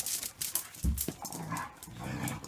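Dogs play with toys outside on a rainy day, giving short yips and grumbly vocal sounds at close range over a bright hiss of rain.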